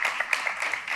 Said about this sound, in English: Let's start with an applause.